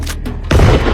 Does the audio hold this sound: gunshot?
yes